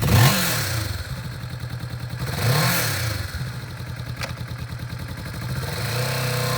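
A used 2020 Kawasaki Vulcan S middleweight cruiser with ABS idles close by, its engine running in a steady throbbing rumble with a couple of brief swells of revving.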